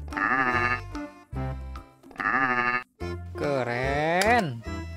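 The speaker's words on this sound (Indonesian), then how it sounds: "Kambing." A goat bleats three times up close, each call loud and wavering, the last one longer and more strained than the first two.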